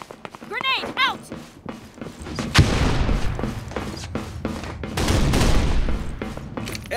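Gunfire and a grenade blast in the video game AceForce2, a dense burst of rapid shots and heavy booms filling most of the clip, with brief voice callouts early on.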